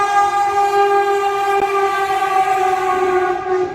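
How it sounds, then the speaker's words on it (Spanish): A passing train sounds a loud, sustained warning horn on a busy rail stretch carrying both passenger and freight trains; the steady tone holds for several seconds with no other sound. "sobre todo de los pitidos de advertencia de los trenes que pasan por este lugar"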